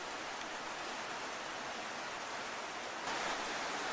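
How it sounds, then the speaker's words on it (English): Steady, faint rain hisses evenly at an outdoor ritual scene, growing a little denser near the end, with no voices. "the rain starts falling"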